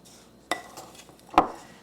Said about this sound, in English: And I'm going to mix this with the sugar.